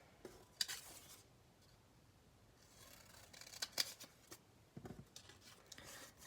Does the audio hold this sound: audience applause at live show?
no